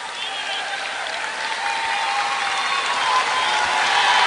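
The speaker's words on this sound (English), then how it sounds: "Berea girls are clapping to support their girls even though they're losing." A crowd of girls at a high school basketball tournament game claps steadily, the dense applause building slightly louder through to the end.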